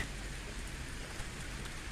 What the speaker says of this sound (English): I love the coolness and the calmness that it brings, while the rain is most relaxing, even during the heavier downpours